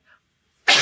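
A single sharp, loud sneeze close to the microphone near the end, following a faint brief sound and near silence.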